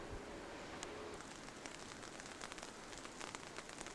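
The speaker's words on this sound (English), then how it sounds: "It's starting to rain." Light rain beginning to fall outdoors at a graveyard in Barmouth, Wales, a steady soft patter of scattered drops with faint crackly ticks running throughout.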